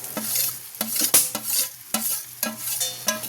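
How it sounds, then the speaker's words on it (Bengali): Soaked rice with turmeric and ghee fries in a pan, loud sharp stirring scrapes repeating about every half second over a steady sizzle, close up with no voices. "আমি এবারে চালটা আস্তে আস্তে দিয়ে দেবো।"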